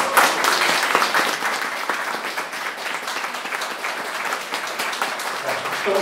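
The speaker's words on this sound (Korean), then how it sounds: "우리 박수 한번 그냥 주시죠" A concert audience claps steadily for several seconds, a dense crackle of applause that stays even in loudness from start to finish.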